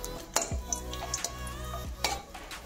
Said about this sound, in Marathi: याच्यामध्ये आपण आपले पूर्ण खडे मसाले टाकून घेणार आहोत। छान हलवून घ्यायचं आहे।